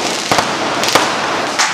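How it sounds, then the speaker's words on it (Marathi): Firecrackers burst during a Ganeshotsav celebration. A few sharp, loud cracks cut through a dense, constant wash of crowd and festival noise. "त्या गाण्यांच्या उल्लेखाने जर फटाके वाजत असतील"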